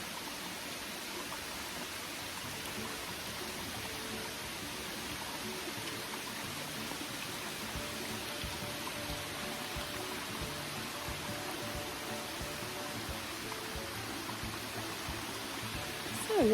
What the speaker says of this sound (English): we discovered a waterfall